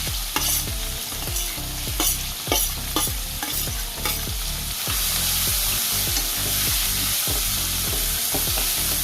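Chopped onions hiss and sizzle in hot oil with bay leaf, cloves, peppercorns, cumin and asafoetida, a loud steady fry broken by regular scraping stirs of a spoon against the pan.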